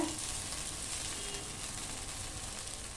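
A rice-flour ghavan frying on a pan, a steady, soft, even sizzle with little change throughout.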